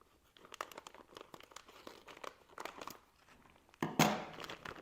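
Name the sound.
opening kit packaging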